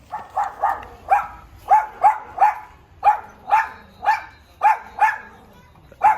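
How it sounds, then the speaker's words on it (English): A single loud dog barks about a dozen times close by, in a quick, steady rhythm with short pauses between barks, during a day out in Kansas City. "One loud dog."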